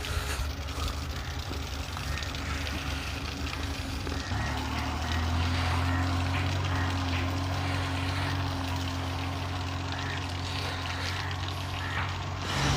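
A car's engine drones and strains on a rain-soaked village road in Punjab, India, a continuous low rumble rising into a sustained higher whine as the wheels slip, under steady background noise of rain and surroundings.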